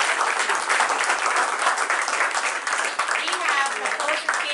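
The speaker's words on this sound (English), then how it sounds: "Give a round of applause." A game show studio audience at Family Feud breaks into loud, sustained applause, a dense steady wash of clapping close by that carries through the whole stretch.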